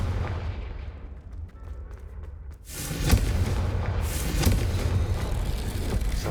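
Confringo blasting spell from the Hogwarts Legacy video game erupting in a loud, booming explosion after a quieter lead-in, followed by a sustained rumbling roar with further bursts.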